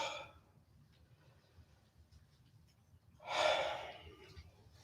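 A person doing a yoga standing forward bend pushes the air out in a long, forceful exhale that swells and fades near the end, after a softer breath at the start, with a quiet background and no talking.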